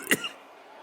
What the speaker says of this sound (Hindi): गला भी भर आ गया और तेज खांसी होने लगी